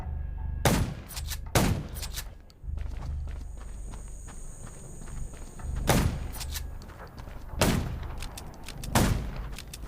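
Gunfire in the zombie survival shooter Undawn, several sharp, isolated shots spaced a couple of seconds apart over a low ambient game background, with footsteps between them.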